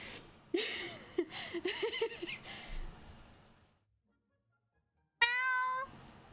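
A voice mimics a cat's meow, a single rising, tonal call that follows a stretch of chuckling and a pause of silence, while playing Genshin Impact.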